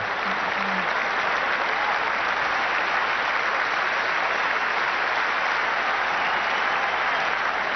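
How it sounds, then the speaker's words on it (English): Cricket stadium crowd in Kolkata at the 1996 World Cup semi-final between India and Sri Lanka applauds a half-century with a continuous, even roar of clapping, heard with a slightly muffled, broadcast-limited tone. "there's no wonder everybody's applauding."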